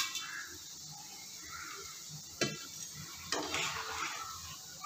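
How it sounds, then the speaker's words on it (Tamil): Lentil balls for a paruppu urundai curry frying in a pan of oil, a steady close sizzle with a couple of sharp utensil clinks partway through. "இப்போது இதே மாதிரி நம்மக்கிட்ட இருக்கிற எல்லா உருண்டைகளையுமே இந்த மாதிரி எண்ணெயில் பொறிச்சு எடுத்துக்கலாம்"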